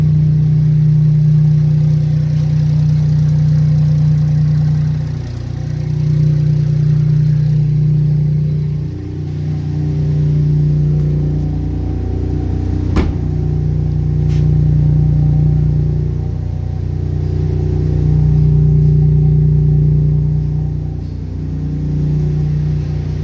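A 2021 Polo 1.0 MPI engine with its stock air filter running steadily at a low rumble with slight swells in pitch, close by and continuous, no voices.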